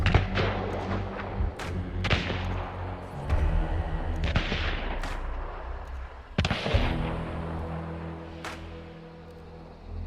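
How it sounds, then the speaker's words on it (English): Medium ammo gunshots in the video game Hunt: Showdown, a string of deep booming bangs at irregular intervals, some close and loud, others more distant, trailing off into a low rumble. "Medium ammo is more of a deep bang."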